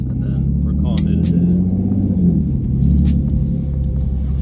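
A V6 Ford Mustang with a loud, cheap aftermarket exhaust rumbles steadily up close, its deep drone swelling slightly in the middle, with voices talking over it throughout.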